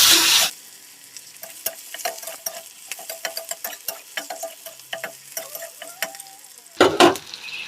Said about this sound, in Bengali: তো দেখো পেঁয়াজটা ভাজি করা হয়ে গেছে